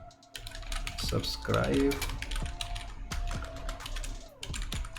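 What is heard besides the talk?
typing on a computer keyboard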